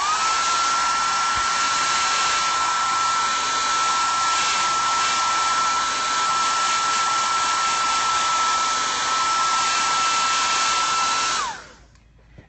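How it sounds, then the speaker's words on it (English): A hair dryer blows steadily at close range with a constant whine for about eleven seconds, then switches off and winds down. "I'm sorry I keep having to use the hair dryer"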